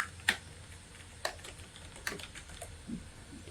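A computer keyboard clicks as a virtual machine name is typed, with a few sparse, crisp keystrokes spaced out in a quiet room.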